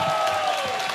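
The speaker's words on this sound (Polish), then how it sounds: "dacie brawa jeszcze raz na początek?" At an outdoor cross-border cultural concert, the audience claps briefly, a dense burst of applause with a sustained tone running under it, fairly loud and over within a second.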